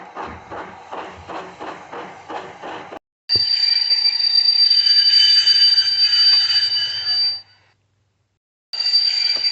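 A small HO/OO model train chugs along in quick rhythmic puffs, then a long, shrill whistle-like tone sounds, breaks off into silence, and starts again.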